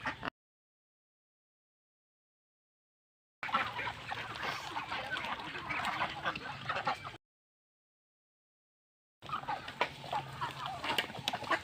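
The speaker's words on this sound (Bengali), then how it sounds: "এখানে আমার তিরিশ থেকে চল্লিশটা হাঁস আছে তো খাবারের জন্য আমরা অপেক্ষা করতেছে" A flock of thirty to forty farmed ducks waits for feed in winter, giving dense bursts of clucking and quacking calls that come in two stretches separated by silent gaps.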